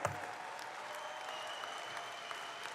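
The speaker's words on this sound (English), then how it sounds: "Y'all stand to your feet, give this staff a round of applause for what they do." Sustained applause from a convention audience standing for the staff at a union convention, steady dense clapping throughout at moderate distance with no talk over it.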